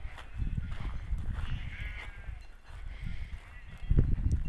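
A flock of sheep grazes on a summer hillside pasture, making soft, close shuffling and tearing sounds in irregular low bursts, with a slightly louder cluster near the end and no talking.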